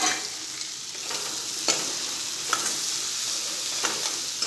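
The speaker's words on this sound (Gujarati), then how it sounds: "હવે કાંદાને આપણે થોડો સાતળી લઈશું, થોડો કલર ચેન્જ થાય ત્યાં સુધી થવા દઈશું।" Chopped onion, one medium onion finely cut, sautéing with garlic in a pan for Punjabi rajma masala, giving a steady soft sizzle with a few light stirring scrapes and clicks, close and alone.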